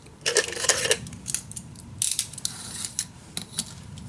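Scissors cutting paper for a steampunk mini album, making a series of short, crisp snips and rustles close up, with uneven spacing between cuts and no voice.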